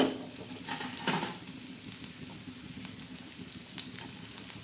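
Chopped onion fries in a pan for spicy egg bhurji, with a brief louder burst at first that settles into a continuous close, crackling sizzle with no talk.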